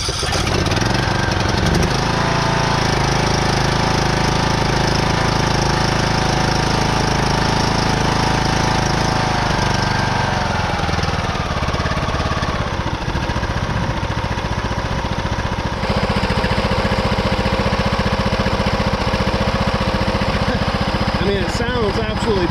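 A John Deere LA105 lawn tractor engine runs steadily close by, a loud continuous mechanical drone that shifts slightly in pitch partway through and carries on without pause.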